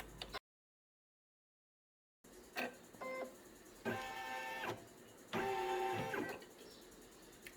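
An embroidery machine stitches the finishing on a unicorn plush, giving rapid mechanical whirring bursts with a buzzing, ticking rhythm, separated by short pauses and a gap of silence.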